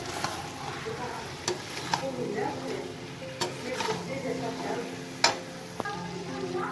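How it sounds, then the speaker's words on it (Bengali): Whisked sour yogurt going into a frying prawn masala, with a steady sizzle under intermittent stirring clicks and scrapes from a spoon in the pan, fairly close; a voice is faintly present underneath. "তো এখানে টক দই দিয়ে দিয়েছি।"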